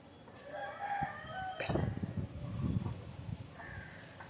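Country chickens cluck close by in a farmyard while a rooster lets out a loud crow in the middle, with no talking.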